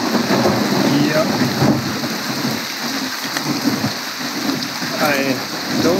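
Rain falls steadily around a cyclist touring Germany on a fixed-gear bike, with low rumbles of thunder rolling through the storm at a moderate distance, continuous and fairly loud.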